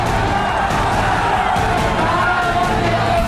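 A large crowd roars at a Bihar election rally, loud and continuous, with cheers and shouts blending into a steady wall of noise.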